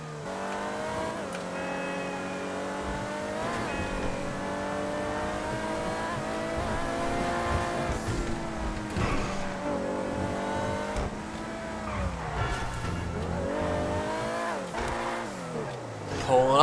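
Car driving in GTA V Online toward Los Santos Customs, a steady engine drone with shifting pitch as it accelerates and revs, continuous and close, with game music or effects layered over it.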